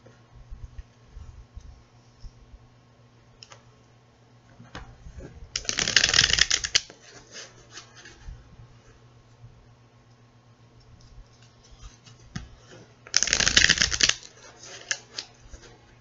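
Two short bursts of tarot cards being riffle-shuffled, a crisp fluttering rush each time, separated by quiet stretches with faint handling clicks.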